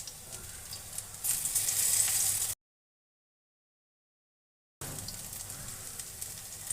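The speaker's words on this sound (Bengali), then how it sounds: "সময় নিয়ে লো ফ্লেমে রেখে ভেজে নেব।" Cabbage and shrimp fry in a pan over a low flame with a soft, continuous sizzle that swells for a moment, cuts out completely for a couple of seconds, then returns at a gentle level.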